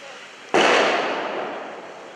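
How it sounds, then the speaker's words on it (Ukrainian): A single sharp, loud bang bursts out and trails off into a long rumbling decay. "Звуки вибухів не стихали."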